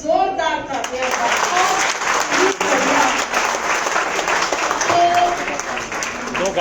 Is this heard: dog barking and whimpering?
no